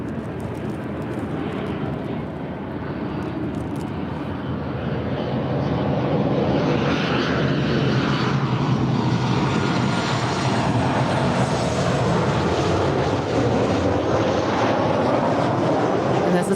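An Alaska Airlines Boeing 737-900ER coming in from Seattle makes a broad jet rumble that swells louder about halfway through and then stays strong and steady, with a faint voice briefly underneath.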